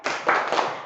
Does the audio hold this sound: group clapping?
yes